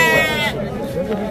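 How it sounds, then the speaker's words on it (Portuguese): A goat bleats at a livestock fair, a single wavering call up close that fades into the murmur of people talking nearby. "Tô vendo que lá é uma cabra."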